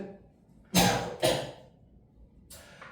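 Two harsh coughs from a teacher during a math lesson come in quick succession, followed by a softer third one after a pause, close up in an otherwise quiet room.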